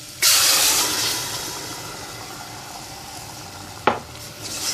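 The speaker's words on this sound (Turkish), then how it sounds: "Şimdi rendelemiş olduğum domateslerimi ilave ediyorum." Grated tomatoes pour into a pot of sautéed tomato paste, setting off a loud sizzle and hiss that fades slowly into a steady simmer, with one short clatter near the end.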